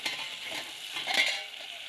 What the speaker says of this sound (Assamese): এতিয়া অলপ দেৰি ভাজি পেলাই ঢাকোন দি দিম।